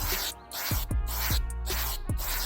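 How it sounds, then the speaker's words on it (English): Rapid hissing bursts of an aerosol paint can during a disc brake conversion job, several spray passes in a row separated by short gaps and brief thumps, close and steady with no talk. "As always, when spraying, you want to overlap"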